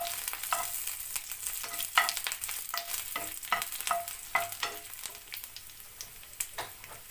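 Shallots, dried chili and curry leaves crackle in hot oil for a tempering, with repeated scraping stirs of a spoon in the pan and a soft, steady sizzle underneath.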